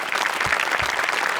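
Big applause from a studio audience on a Marathi comedy show, a dense, even burst of clapping lasting the whole moment.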